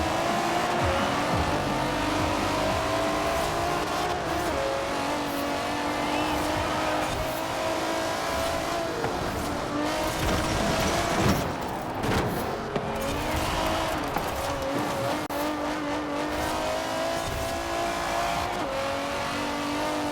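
Race cars roar and accelerate through a Forza Horizon championship race, engines loud and continuous, with tires squealing and skidding through corners.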